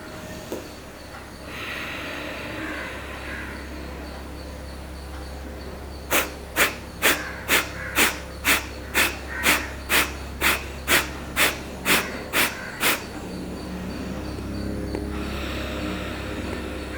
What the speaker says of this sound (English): just normal breathing